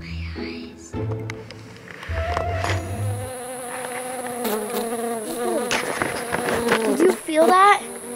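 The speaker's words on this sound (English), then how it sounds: "There's mosquitoes everywhere." Insects buzzing at night, thin high whines drifting in and out close by alongside scattered clicks, rustles and handling noise.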